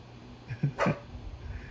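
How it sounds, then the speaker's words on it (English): A dog barks once or twice in a short, fairly close burst inside a quiet room, with no talking over it. "As soon as I said BTS, the dog barked."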